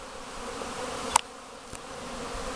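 A steady, dense buzzing of many honeybees around apiary hives in spring, with a brief click partway through and no voices.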